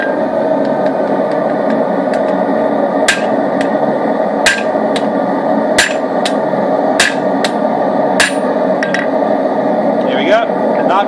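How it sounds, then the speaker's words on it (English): Hammer blows on hot steel, notching it with the back of a pair of tongs at a forge: about seven sharp, loud metallic strikes at a steady rhythm over a constant hum. "now we're going to put a notch in using the back of a set of tongs"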